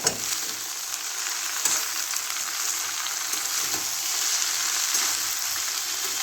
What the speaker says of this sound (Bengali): এবার পালং শাকটা দিয়ে দিচ্ছি। আমি কিন্তু এক ফোঁটাও জল দেবো না